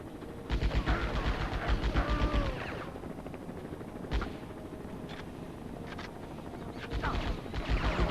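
Bursts of rapid gunfire from a shootout in the video game Die Hard Vendetta, quiet and distant-sounding, with a couple of dense volleys separated by single shots and sparse pops under a faint background.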